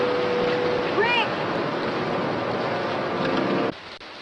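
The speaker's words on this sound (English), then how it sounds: "There's your rain, but good." Heavy downpour from a 1950s end-of-the-world film scene, a broad steady roar of falling water filling the whole clip, with a brief tonal sound near the start and an abrupt drop in level near the end.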